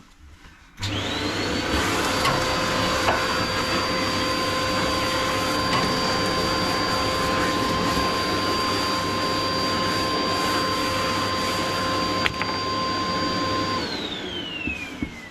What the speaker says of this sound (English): I'm just going to vacuum the hearth.